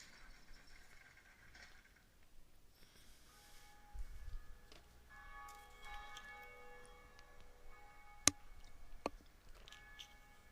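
First bell ringing in Dark Souls, a single bright struck tone at about eight seconds followed by a second strike near nine seconds, over quiet game ambience with sustained tonal hums.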